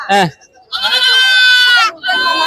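A goat kid at a goat market in Kunnathur bleats loudly and close by, with two or three quavering cries in quick succession.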